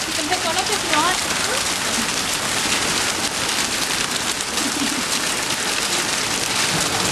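Hail pours down in a dense, steady, loud roar of pelting ice hitting surfaces during a June storm in Richmond Hill, with voices talking briefly over the constant clatter.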